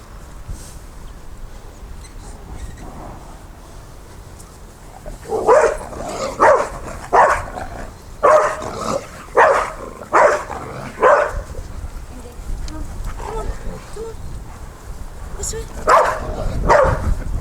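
A Rottweiler on a walk lets out a run of loud, close barks in quick bursts, after a quieter start with soft background voices.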